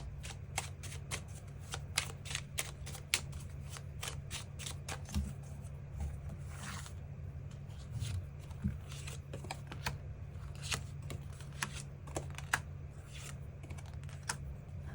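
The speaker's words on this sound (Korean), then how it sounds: "앞으로 우리 두 사람의 흐름과 또 우리에게 필요한 것이 무엇이 있을지 추가 카드 뽑아보도록 하겠습니다" Tarot cards shuffled by hand at close range, a steady run of quick crisp riffling clicks and flicks through the whole stretch over a low constant hum, with no talking.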